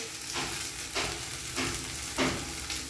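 Thalipeet flatbread cooking on a hot pan, a steady close sizzle with soft scrapes recurring about every half second, with no voices.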